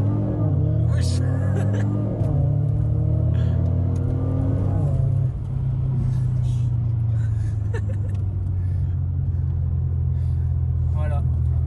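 A Renault Clio V6 engine revs up, then settles into a steady, loud, low droning hum that continues without a break, heard from close by.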